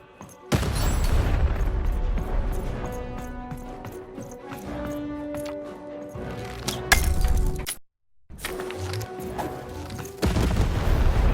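Cannon firing in the video game Lost in Random, heavy booming blasts and cracks over layered game music and effects, loud and close, with a brief drop to silence partway through.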